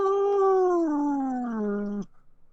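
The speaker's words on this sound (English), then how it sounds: "That's my cat." A pet cat lets out one long, drawn-out meow that slowly falls in pitch, clear and close, then stops abruptly.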